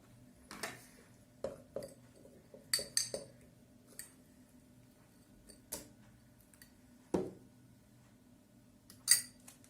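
A spoon stirs a coconut-milk and banana fruit ice cream mixture in a bowl, giving irregular soft clinks and scrapes against the dish with quiet gaps between strokes.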